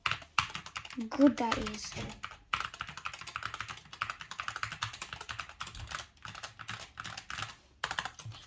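Fast typing on a SteelSeries Apex Pro TKL mechanical gaming keyboard with smooth keys, a steady dense patter of keystrokes close up, with a brief voice over the start.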